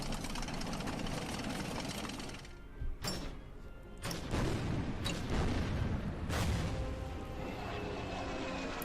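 A Stuka dive bomber engine in a World War II strategy game, Order of Battle, drones as a steady, loud roar. Several sharp impacts or blasts break through it.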